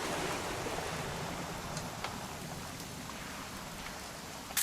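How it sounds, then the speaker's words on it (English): Steady rain falling outdoors in What Remains of Edith Finch, a soft continuous hiss of drops with a few faint ticks, fairly quiet and without talk. "It's gonna rain the whole weekend,"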